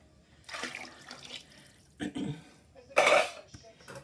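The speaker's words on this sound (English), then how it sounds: "All the cans that I use to make the gravy, I fill them up with water." Water sloshes from emptied tomato cans into a pot of Italian gravy, three short bursts of splashing and metallic clinks, the last one loudest, with a voice under the sounds.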